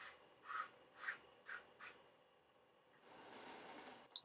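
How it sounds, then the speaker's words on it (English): A pencil point rubbed on sandpaper to sharpen it: a few soft, separate scraping strokes, then one longer steady rasp, all faint and close. "this is much easier to sand"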